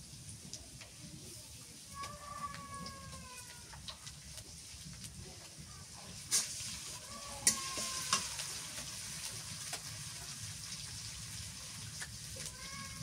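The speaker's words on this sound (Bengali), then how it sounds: "রসুন বাটা দিয়ে দিই" Garlic paste frying in a pan with onion and green chili for a bottle gourd and sea fish curry, a soft steady sizzle with occasional stirring scrapes and a few sharp clinks, moderately close.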